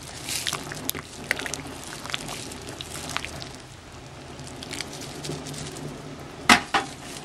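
Stirring a pot of ginataang bilo bilo, assorted colored rice balls with banana in coconut milk, gives soft scraping and wet clinking throughout, with a sharper utensil knock on the pot near the end.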